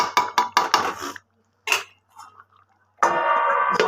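Chicken pieces stirred in a metal cooking pot with a spoon, a quick series of four or five scraping clanks, then a lid set on with a clink and a lingering ringing tone at the end.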